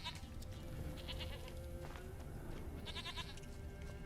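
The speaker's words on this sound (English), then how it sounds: "I hear a goat." A goat bleats in The Witcher 3, several short wavering calls over a constant low game-world hum, faint and somewhat distant.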